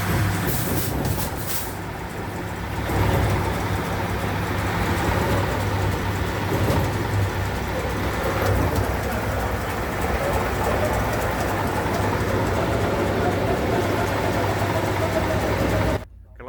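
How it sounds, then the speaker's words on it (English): A Dahl diesel marine engine runs aboard a boat, giving a steady, loud, low droning rumble with even harmonics that holds unbroken for about sixteen seconds before cutting off abruptly. "In our previous boat we had the same machine, this Dahl diesel, as this one."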